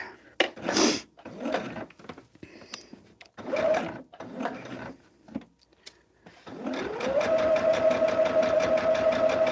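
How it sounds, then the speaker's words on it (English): Close handling and rubbing of quilt fabric, then a sewing machine starts up and runs steadily along a seam, a loud, even whirring stitch that holds to the end. "we're going to sew down this line"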